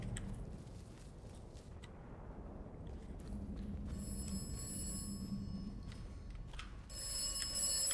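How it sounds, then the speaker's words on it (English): An in-game telephone in Atomfall rings with bright, repeated metallic trills that start partway through and build against a low ambient rumble, with no talking. "Pardon me. This phone call's for me."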